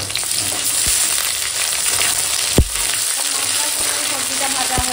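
Ginger-cumin paste frying with vegetables in a pan, a continuous close sizzle broken by the scrape and knock of a stirring spoon against the pan, including one sharp clack midway.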